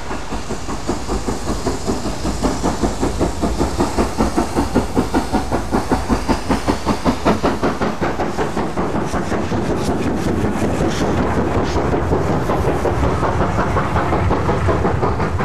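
LMS Black Five steam locomotive number 5025 of the Strathspey Railway in snowy Scotland, working hard with loud rhythmic chuffing that quickens steadily, then gives way to a continuous roar of steam and rolling wheels.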